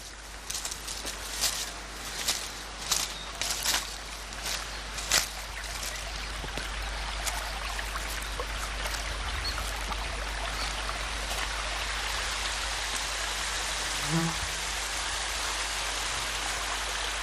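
River water flowing at the Roper River Bar crossing, a steady broad rushing wash heard close and continuous, with some louder ticking and splashing in the first few seconds before settling into an even flow.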